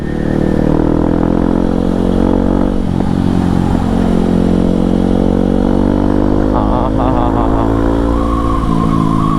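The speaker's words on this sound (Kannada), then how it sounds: "ಚಳಿಲಿ ಎಕ್ಸಾಸ್ಟ್ ನೋಟ್ ಕೇಳೋದೇ ಒಂಥರ ಮಜಾ" A motorcycle with a loud exhaust rumbles steadily near the listener, holding a deep throbbing idle with a few short revs and crackles, loud throughout with no talk.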